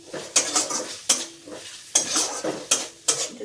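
Onion, green chili and ginger paste stirred in a pan, heard as a series of sharp spatula scrapes and clanks roughly twice a second over a soft frying sizzle.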